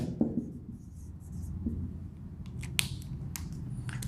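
A pen scratches across paper or a board while a solution is written out during an engineering class on machine design, quiet and close, with short strokes over a low room rumble and a few sharp taps near the end.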